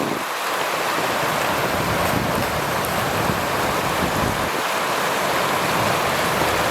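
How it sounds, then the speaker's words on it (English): Water gushes off a canal into a reservoir over a run of small waterfalls, a loud, steady, close rushing roar that never lets up, with no voices. "the water's fairly gushing here. It's coming off the canal going into the reservoir"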